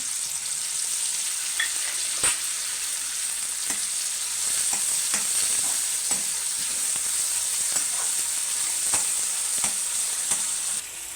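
Cumin, garlic, green chillies and tomato fry in hot oil in a pan for a sweet corn curry, giving a steady, loud sizzle with scattered crackles and sharp pops throughout, and no voices.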